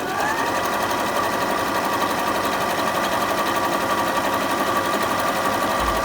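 A Bernette b37 sewing machine runs steadily and close, stitching a dense picot pattern with a fast, even mechanical whir and rapid needle chatter throughout.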